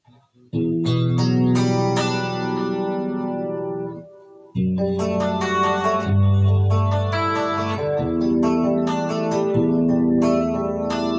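Clean electric guitar chords played through a compressor pedal ring out smoothly and evenly, with a gentle pause midway, sounding compressed and steady throughout.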